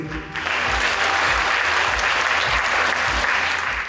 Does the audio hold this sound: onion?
no